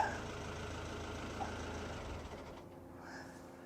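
A boat engine that has not run in a long time shutting down after a cold start, its steady low rumble running on, then thinning and dropping away toward quiet near the end.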